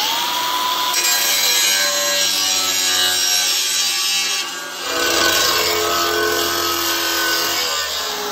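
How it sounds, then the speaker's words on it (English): A hand saw rasps steadily back and forth through a repair panel for a 1956 VW Beetle clamped in a vise. The strokes are loud and close, with a brief pause near the middle before the cutting resumes. "Luke's just going to cut the panel"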